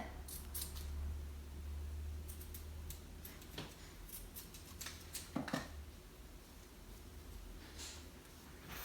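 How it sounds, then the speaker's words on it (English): Scissors trimming the edge of a bow, a few quiet snips and clicks spread over several seconds against low background hum. "I'm actually going to trim the edge just a little bit."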